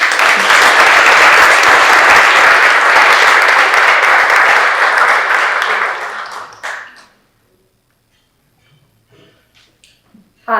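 Loud, dense audience applause fills a civic academic dinner hall for a scholarship recipient, sustained for about six seconds before tapering off into near silence.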